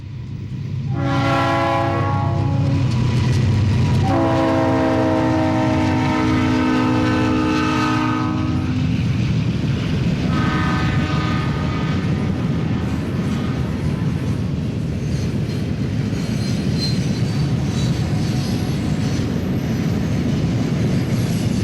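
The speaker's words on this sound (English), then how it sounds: "Conrail's fastest eastbound carload train is next" A Conrail eastbound carload freight train rumbles past at close range in Berea, its horn blaring in several long blasts early on before the steady roar of cars continues.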